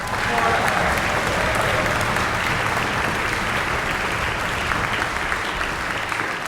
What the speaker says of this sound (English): So can we put a round of applause for...